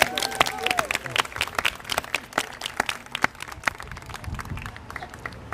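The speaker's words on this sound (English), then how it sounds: "let's give him one more round of applause." Scattered, uneven clapping from an audience at a grant announcement event, individual sharp claps spaced irregularly and thinning out toward the end, with a voice briefly audible underneath.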